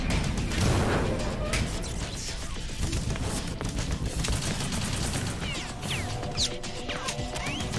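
Rapid bursts of explosive-ammo P90 gunfire in the video game Metal Gear Solid 2, crashing impacts and clattering shots layered over busy battle noise, fairly quiet overall.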